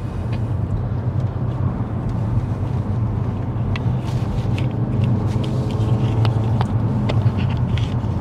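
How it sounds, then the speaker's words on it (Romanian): A Mazda SkyActiv car engine drones steadily from inside the cabin while driving, a constant low rumble with road noise and faint clicks. "Așa merge, se simte că nu e un motor extraordinar de puternic."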